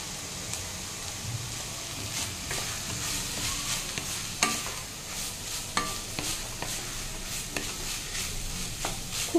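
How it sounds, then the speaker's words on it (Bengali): Tricolour rice being tossed and stirred in a hot pan, giving a steady crackling sizzle with scattered clicks and scrapes of the utensil against the pan, close and continuous with no voices. "ভালো করে আবারও টস করে নেব।"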